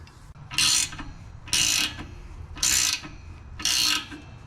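A bushing press tool on a Lexus GS400 being turned by hand to force out a traction rod bushing, four evenly spaced bursts of harsh ratcheting clicks, close and crisp with quiet pauses between.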